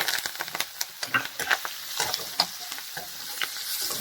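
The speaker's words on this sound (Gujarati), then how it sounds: "તેલમાં સરસ ફ્રાય કરી લઈએ" Potatoes frying in oil with peanuts, green chillies, curry leaves and turmeric, a lively sizzle with repeated stirring scrapes and clinks, close and continuous, no voices.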